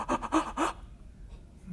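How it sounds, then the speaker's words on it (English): Three quick, deep breaths, each a short breathy rush close to the mic in a steady rhythm, taken to calm nerves before a test, followed by quiet. "you end up taking some deep breaths, and this is the way your breaths sound"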